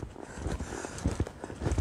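A horse loping in a training arena gives off soft, rhythmic hoofbeats, a faint, steady three-beat thudding with a light scuffle of dirt, heard from a short distance.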